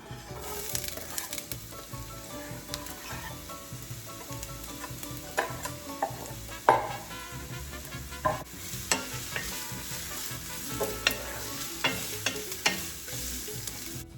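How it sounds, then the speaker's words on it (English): Ingredients for tinga de pollo sauteing in a pan, a steady close sizzle and crackle running throughout with occasional scraping stirs and utensil clinks. "since those have to saute for 5 minutes"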